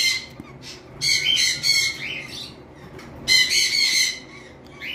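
Pet birds, a blue pied opaline and a green opaline, give loud, close, harsh squawks in several bursts with brief pauses in between.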